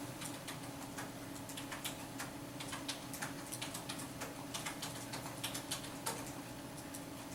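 Fast, irregular clicking of numbers being keyed into a graphing calculator in a statistics class, a steady run of small taps over faint room hum with no talking.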